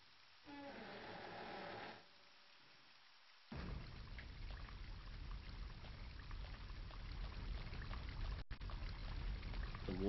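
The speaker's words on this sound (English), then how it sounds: "Water pissing down, nice." After a short mechanical burst, water in the game Obscure 2 starts pouring down heavily and keeps up as a steady, close rushing splash with no talk.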